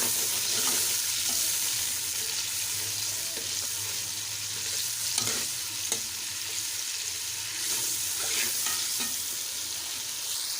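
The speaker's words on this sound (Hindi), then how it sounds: "अब इसके अंदर डालेंगे लहसुन अदरक का पेस्ट और इसको अच्छे तरीके से फ्राई कर लेंगे।" Garlic ginger paste fries in hot ghee in a karahi, giving a steady close sizzle with the scrape and clatter of stirring throughout, and no voices.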